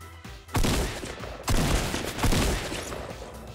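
Gunfire from the Fortnite battle royale video game crackles in several loud, rapid bursts, close and dominant with no talking.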